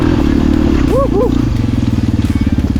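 A Yamaha TTR 250 dirt bike engine thrums close by at low rpm while riding, shifting to a choppier pulsing beat as the throttle changes, with brief vocal whoops over it.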